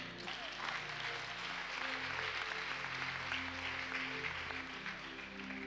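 A church congregation claps steadily through a worship service, a dense, continuous wash of applause with faint music or voices underneath.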